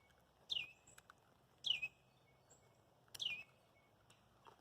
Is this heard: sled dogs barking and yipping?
no